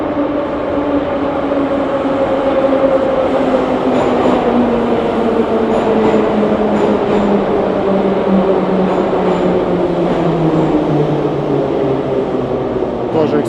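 Moscow Metro subway train running underground, a loud close rumble with a whining motor tone slowly falling in pitch as it decelerates, a faint voice under it.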